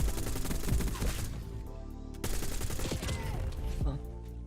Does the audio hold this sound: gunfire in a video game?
yes